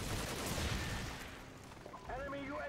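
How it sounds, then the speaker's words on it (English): Shotgun fire in Call of Duty 4 multiplayer, a burst of loud, crackling game gunfire at the start that fades into faint background noise, with a brief electronic voice near the end. "I shot him in his forehead with a shotgun"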